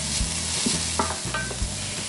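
Chicken and onion brown in a pan for creamy chicken spaghetti, a close steady sizzle with soft stirring scrapes over a low hum.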